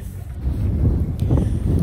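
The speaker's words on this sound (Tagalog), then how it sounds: "ang lakas ng hangin" Heavy wind buffets the microphone in low, rumbling gusts that swell and fall over a couple of seconds, with no voices, outdoors at Arlington Cemetery.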